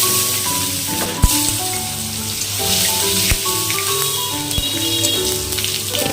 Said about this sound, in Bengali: গরম হয়ে গেছে দিয়ে দেব দুটো শুকনো লঙ্কা দুটো তেজপাতা সাদা জিরা রাঁধুনি কাঁচা লঙ্কা